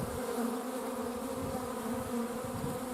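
A dense, steady buzzing of many honey bees fills the whole clip, close and continuous with no breaks.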